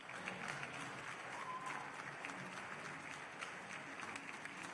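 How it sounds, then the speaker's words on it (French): A crowd at an awards ceremony for the events industry applauds the winners, with dense, steady clapping that holds at an even level throughout and sounds somewhat distant. "Et cette foule en délire qui vous applaudit et vous admire."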